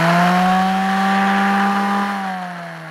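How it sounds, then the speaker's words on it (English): A random orbit sander runs close and loud, a steady whirring motor hum with a slight pitch drop as it winds down at the end. "the reason I call it a random orbit sander is that not only does it spin"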